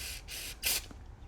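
Carburetor cleaner sprays in three short, close hissing bursts into a plastic Briggs & Stratton carburetor, the third burst strongest, with no talk over it.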